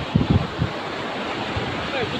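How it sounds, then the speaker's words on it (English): Ocean waves breaking on a beach shore, heard as a steady wash of surf and wind noise, with a few low thumps early on as a wave hits, and faint voices nearby. "Watch out, that's a big wave!"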